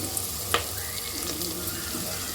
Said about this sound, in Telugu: ఉల్లిపాయ ముక్కలు అలాగే పచ్చిమిర్చి ముక్కలను వేసుకొని వేయించుకోవాలి